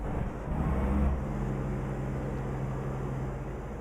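Ford Cargo 1838T truck in Euro Truck Simulator 2 starting up and settling into a steady low diesel drone, close and continuous, with no one talking.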